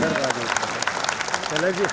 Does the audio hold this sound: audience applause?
yes